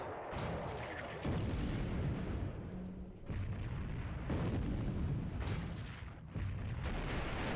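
Torpedoes and heavy naval guns fire in the World War II naval strategy game War in the Pacific, a series of loud, booming blasts in close succession with short lulls between them.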